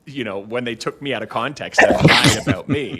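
A sharp, explosive sneeze bursts out in the middle of a man's continuous speech. It is brief and close, and as loud as the voice around it.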